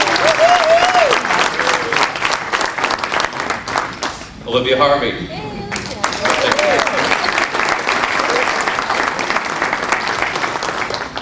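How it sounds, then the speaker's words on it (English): A Chamber of Commerce annual dinner audience applauds loudly and continuously for committee members, with a brief dip in the middle while a man reads out names over the clapping. "So these people are deserving of a big round of applause"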